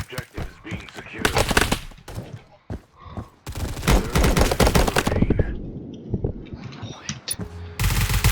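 Rapid video game gunfire from a silenced P90 submachine gun: dense, rattling automatic bursts nearly nonstop, with short gaps and overlapping shots, loud and close, with a voice faintly mixed in.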